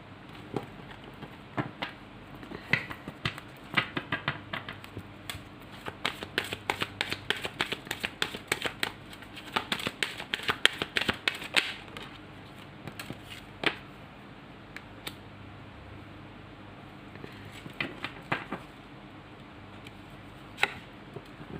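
Tarot cards are shuffled and drawn by hand, producing close, irregular bursts of crisp flicking and riffling clicks with short pauses between them and no talking.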